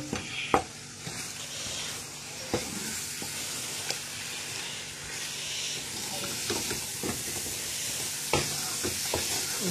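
Oil sizzles and hisses in a cooking pot of Cameroonian eru. The sound runs continuously, broken by occasional sharp clicks and spatters from the pot.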